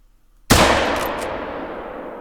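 A single loud rifle shot rings out in the hunting game theHunter, fired at a doe from 160 away, with a sharp crack that rolls into a long fading echo.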